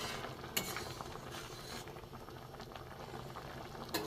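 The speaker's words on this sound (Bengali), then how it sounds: "ডাল ফুটছে, লাউ ডাল ফুটছে।" Gourd and lentil dal boils steadily in a pot, giving a constant soft bubbling with a couple of sharper pops standing out.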